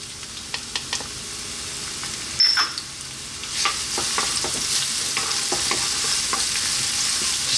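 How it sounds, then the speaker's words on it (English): Ginger and garlic frying in sunflower oil while being stirred, a soft continuous sizzle with light scraping and clicking strokes that grows a bit louder midway, no talking. "pan with some oil in it. I'm using some sunflower oil."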